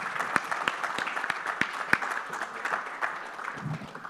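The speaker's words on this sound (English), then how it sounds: "A huge round of applause for these guys." A conference audience gives scattered applause with distinct individual claps. The sound is moderately loud and thins slightly toward the end.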